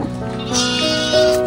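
A sheep being fed leaves lets out a short, tonal bleat that wavers slightly and ends in a brief rise, heard close and fairly loud.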